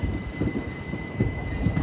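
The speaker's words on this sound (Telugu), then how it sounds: "వెనకాల ఒక ట్రైన్ ఉంది" Train on the track near Renigunta junction cabin, a low rumbling with rhythmic wheel thumps and a faint steady high whine, fairly close and continuous.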